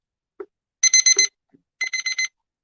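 Little kitchen thermometer beeping as it switches on: two bursts of rapid high electronic beeps, each a quick run of four pulses, with soft taps and clicks around them, close and clear in quiet.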